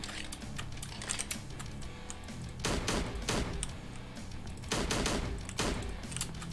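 Rapid bursts of gunfire from the horror video game Slendytubbies 3 come in two short volleys, loud and close, with light clicking from keys or mouse in between.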